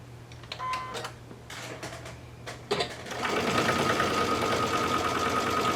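A sewing machine top stitching a fabric gift card holder: a few brief handling clicks and taps, then the motor starts and runs in a steady, rapid, close whir for the last few seconds.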